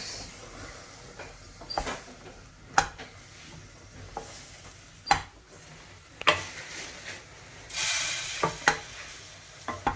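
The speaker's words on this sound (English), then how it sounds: "So it's important that you continuously stir that around." Marshmallows melting in a pan over low heat are stirred continuously, making soft scraping strokes with a faint sizzle and occasional sharper taps of the spoon against the pan, with no speech.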